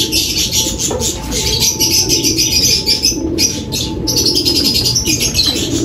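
Racing pigeons at a loft during derby training, with busy, continuous chirping and cooing from many birds close by and steady over the whole stretch, plus a few soft wing flaps.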